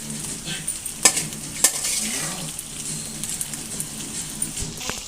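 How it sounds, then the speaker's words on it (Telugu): Okra being stirred in a hot frying pan, a steady close sizzle with a couple of sharp spatula scrapes against the metal and soft clinks near the end. "ఇప్పుడైతే మనం బెండకాయలు వేసుకుందాం ఫ్రెండ్స్. వేసుకుని కలుపుకుందాము."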